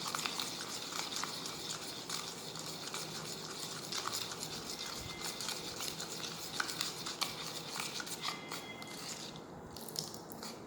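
Ginger juice, turmeric and salt paste being stirred together, a faint, continuous wet scraping and squishing with small crackly clicks, close and without speech.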